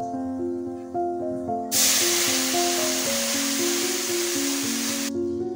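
Water poured into a hot pan of fried crushed garlic sends up a loud, steady steam hiss lasting several seconds, then cutting off, over a background of music.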